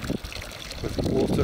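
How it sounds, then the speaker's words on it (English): Water from a spring trickles and splashes in a pig drinking fountain for Saddleback weaners, a soft uneven burble close by, with a voice talking over part of it. "They have their own drinking fountain"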